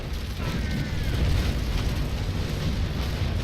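Ship cannons in Naval Action fire a broadside that comes through as a prolonged rumbling roar of overlapping blasts, loud and steady for several seconds with a deep low-end boom.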